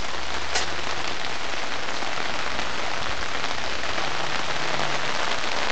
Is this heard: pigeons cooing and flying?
no